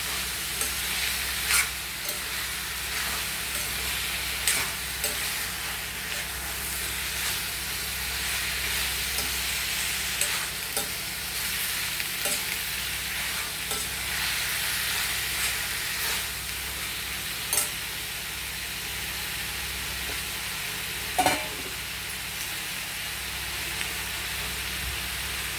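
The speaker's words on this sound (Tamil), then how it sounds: "நல்லா எண்ணெயிலே வணக்கிக்கலாம்." Brinjal (eggplant) pieces for kathrikai chops sauté and sizzle in hot oil in a home kitchen, a steady close frying hiss throughout with scattered clacks of a spoon stirring.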